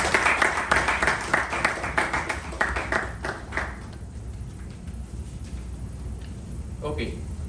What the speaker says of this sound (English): So again, a round of applause to Toastmasters.